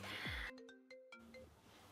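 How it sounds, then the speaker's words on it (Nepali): A phone ringtone for an incoming call in a comedy sketch, a short electronic tonal melody of several clear notes after a brief sweeping sound, fairly quiet with room noise. "कसको फोन आयो"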